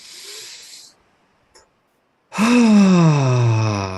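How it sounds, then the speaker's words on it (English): A deep, slow inhale taken during a guided meditation, loud and close, rising into a long breathy draw after a brief earlier exhale and a pause of near silence. "take another deep breath. Do a couple more of those. Deep inhale."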